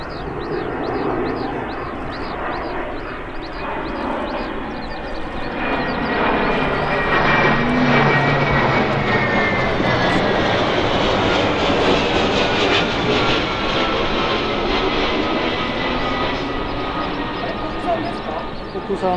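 A Kawasaki C-2 military transport jet roars past at the Hofu Air Base air show, a loud, sustained engine rumble and whine swelling and sweeping in pitch as it passes, with spectators talking underneath.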